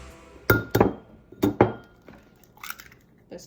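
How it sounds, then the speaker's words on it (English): Eggs cracked one after another against a bowl for Gambian drop doughnuts: a few sharp, close taps and clinks on the rim in quick pairs, followed by fainter wet drops, with no talking. "I'm going to use this bowl, and I'm going to crack the eggs in there"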